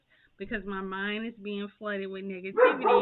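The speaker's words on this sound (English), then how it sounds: "positive words, and that's my dog." A pet dog barks and yips in short bursts near the end, following someone speaking in a home setting.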